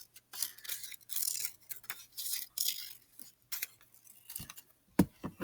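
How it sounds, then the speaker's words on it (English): Scissors cutting a paper beak shape in a craft project, a series of short crisp snips and paper rustles in irregular bursts, close and fairly quiet, ending in a few sharper clicks. "And now I'm going to cut out my second beak."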